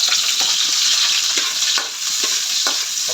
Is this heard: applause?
no